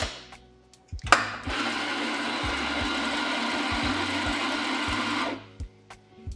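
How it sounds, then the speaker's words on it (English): Electric coffee grinder grinding beans into a portafilter for an espresso shot: a steady, loud whirring buzz lasting about four seconds, with brief clicks and handling noises before and after. "and then I'm going to put it in the grinder"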